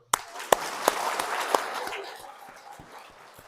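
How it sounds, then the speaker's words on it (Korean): A church congregation applauding at a Catholic parish service, with a few sharp claps standing out at first, then a spread of clapping that gradually fades away. "박수 한번 쳐보세요."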